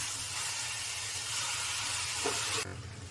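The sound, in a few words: oil poured into gram flour mixture for Mysore pak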